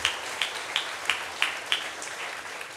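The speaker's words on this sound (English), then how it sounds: "Let's give them all a huge round of applause." Audience applause at a college entrepreneurship centre grand opening ceremony: steady crowd clapping punctuated by a few sharper, evenly spaced claps standing out near the front, continuing without voices.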